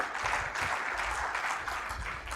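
An audience claps at a summit, steady applause from a crowd across the room that holds at an even level with no speech.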